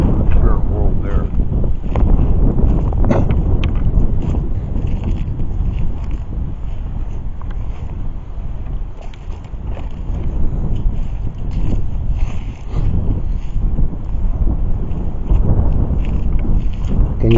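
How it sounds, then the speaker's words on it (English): Wind buffets an outdoor microphone in a steady low rumble with gusty swells, while a person talks over it throughout. "Wouldn't be bad if the wind wasn't blowing."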